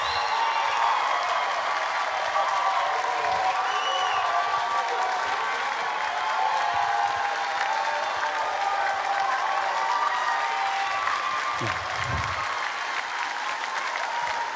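A large audience applauds and cheers for a singer from Haiti at the final song contest of the VIIes Jeux de la Francophonie, loud sustained clapping with scattered shouts, steady throughout.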